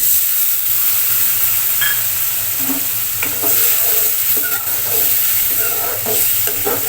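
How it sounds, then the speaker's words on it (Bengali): Water from rinsing ground spice paste off a grinding stone hits a hot pan of raw jackfruit curry, setting off a loud, continuous sizzling hiss, with occasional stirring scrapes close by. "পাটায় যে মশলাটা বেটেছিলাম সেটা ধোয়া একটু জল দিয়ে দিচ্ছি"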